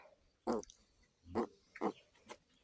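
Three or four short, throaty grunts from a small mini pig, close by, spaced unevenly with quiet pauses between them.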